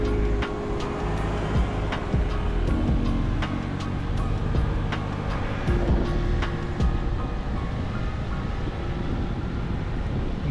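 Ride on a Honda Metropolitan scooter through the streets of Richmond, Virginia, a steady engine drone mixed with rushing wind noise and passing traffic, continuous and close, with no talk.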